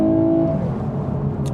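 A Lexus RC 350 F-Sport coupe with a naturally aspirated V6 and six-speed automatic accelerates at full throttle, a close steady engine roar with a tone that shifts partway through the short burst.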